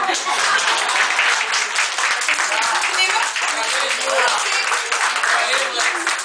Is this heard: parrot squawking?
no